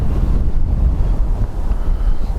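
Strong, steady wind at Dublin Airport gusting around 26 knots, a loud continuous buffeting roar battering the microphone with low rumbling gusts and no voices.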